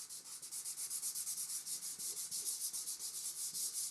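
Fingers rub brown pastel into drawing paper in quick, even back-and-forth strokes, a soft, close, rhythmic scratchy hiss repeating steadily throughout.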